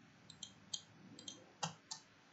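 Mouse clicks at a PC desk while working in Visual Studio, a few quiet sharp clicks in pairs spaced across the moment, close to the microphone with no talking.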